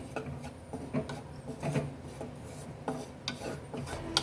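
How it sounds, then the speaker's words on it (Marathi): Gram flour mixed with a little ajwain is dry-roasted in a pan, with a spoon scraping and stirring in irregular rasping strokes, close and fairly quiet, with no talk. "आता मी बेसन हे छान असं भाजून घेणार आहे।"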